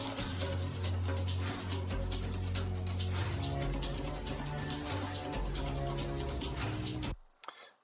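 A loud, dense electronic track driven by a deep, rolling synth bass line under bright layered synths, cutting off abruptly near the end.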